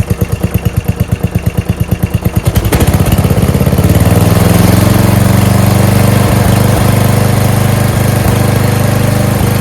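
A Briggs & Stratton 12.5 HP flathead engine with a Nikki carburetor on a Murray mower runs loud and close, chugging in distinct rapid pulses before settling into a steady, even idling drone.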